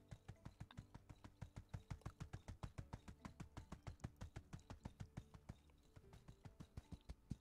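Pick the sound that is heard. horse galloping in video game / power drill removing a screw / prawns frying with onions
horse galloping in video game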